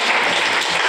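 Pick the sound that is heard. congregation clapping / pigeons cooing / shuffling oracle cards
congregation clapping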